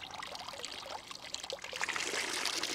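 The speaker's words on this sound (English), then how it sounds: "more water will come out" Water pours out of a rainwater tank's overflow pipe, a close, continuous splashing trickle that grows fuller and louder toward the end.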